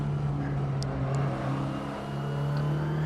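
A Mitsubishi Starion Conquest coupe cruising in traffic, its engine a steady low hum throughout with faint passing road noise, no talking.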